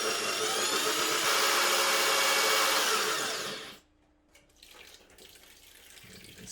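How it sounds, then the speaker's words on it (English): Water sprayed while boring with a diamond drill bit during a kitchen faucet and pump install, a steady hissing spray for several seconds that cuts off abruptly, leaving quiet clatter. "Maybe even spraying it down with water every once in a while."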